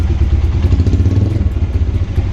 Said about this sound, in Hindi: तो गाइस अभी ये हो गई है किक स्टार्ट से ऑन